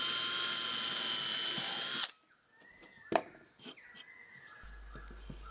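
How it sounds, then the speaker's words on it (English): A power drill bores freehand into a wooden board, whining loudly and steadily for two seconds before stopping abruptly, followed by a few knocks and handling sounds. "I'll drill a test hole freehand, just to see how close I can get."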